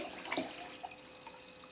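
Water poured into a measuring container, a short trickling splash near the start followed by faint drips and light liquid sounds, close by.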